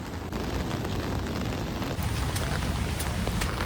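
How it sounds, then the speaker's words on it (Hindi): Heavy monsoon rain pours down at Chandi Ghat in Haridwar, a loud, steady hissing roar of downpour with a few sharper spatters, no voices. "चंडी घाट पर आपको हाल दिखाते दिखाते कितनी ज़्यादा तेज बारिश फिर शुरू हो गई।"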